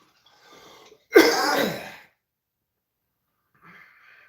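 A single harsh, raspy cough burst after a faint breath, following smoking a cannabis joint, then quiet with a soft exhale at the end.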